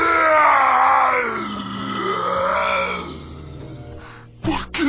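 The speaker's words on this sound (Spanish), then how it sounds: "Dando un alarido, gritó:" In a dramatized Bible reading, a man lets out a long, loud, wavering scream that fades into groaning, followed by a brief abrupt noise at the end.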